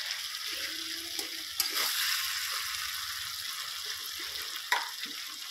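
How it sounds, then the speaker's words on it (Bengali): Ridge gourd and potato curry stir-fried in a pan, a low continuous sizzle with intermittent soft stirring and a couple of brief clacks of a spatula. "দিয়ে আরও কিছুক্ষণ নেড়ে চেড়ে কষিয়ে নেব"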